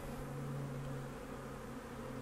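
A steady drone of many honey bees flying in the air around a backyard hive, close and continuous, with a faint higher whine drifting through briefly.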